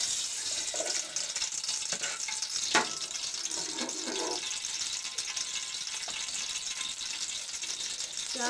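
Ghee sizzling and frying in a pan for a potato and pea or spinach pulao, a steady broad hiss that stays close and even throughout, with a few faint clinks and no talk.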